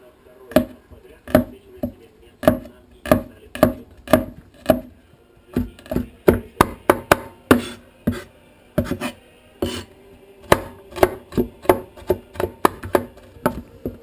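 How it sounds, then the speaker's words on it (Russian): A knife finely chopping garlic on a board: sharp, close, evenly spaced strikes in steady runs broken by short pauses. "потом мелко нарубим чеснок и тоже сверху посыпем"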